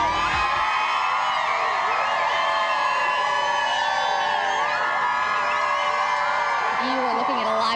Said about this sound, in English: Shot of the crowd that is gathered at Rotary Plaza near the new Qplex in North Battleford